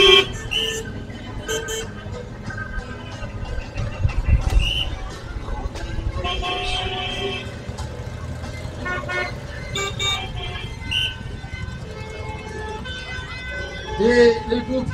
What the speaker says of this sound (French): Et les pompiers semblent se rapprocher de l'accident.